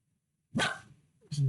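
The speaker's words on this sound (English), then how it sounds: "Fucking little white dog barking." A small white dog barks indoors in two short, sharp bursts after a moment of silence, close and fairly loud.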